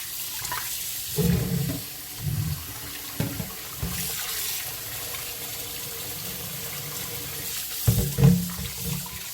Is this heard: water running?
yes